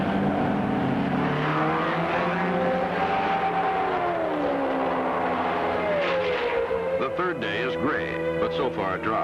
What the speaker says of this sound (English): the cars are forced to follow the pace car to the red flag